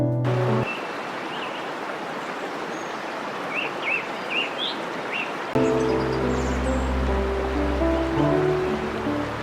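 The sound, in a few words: waterfall gushing in the forest at Amboli ghat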